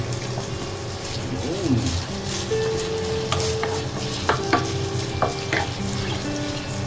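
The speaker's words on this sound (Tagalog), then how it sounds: "pag mainit yung ating kawali guys, halo natin yung ating sibuyas" Red onion sautéing in a hot pan, with a continuous close sizzle and intermittent stirring scrapes and clinks, over a steady background hum and faint voices.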